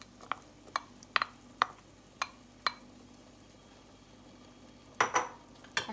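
Onions drop into a pot of beef tripe soup with green onions already in, giving a series of sharp, separate clinks and soft thuds at irregular intervals, then a louder clatter of stirring near the end, with no talking.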